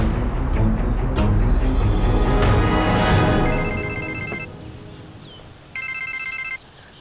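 A telephone rings in two short electronic bursts, separated by a pause, over a dense background of music and noise in a drama scene.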